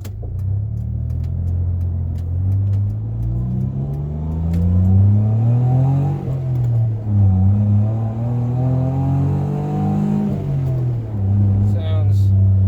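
A Suzuki Every DA52V van fitted with a new cheap aftermarket exhaust pulls away and accelerates, its engine note droning and rising through gear changes, loud and continuous from inside the cabin.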